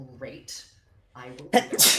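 A single sharp sneeze bursts out close and loud near the end of a short stretch of conversation at a tabletop role-playing game session, with people talking just before it.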